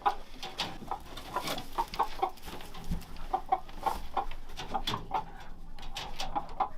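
A flock of chickens, including a broody black Jersey Giant hen, clucks and murmurs nonstop at an off-grid cabin, with short overlapping calls in an uneven rhythm, close and moderately loud.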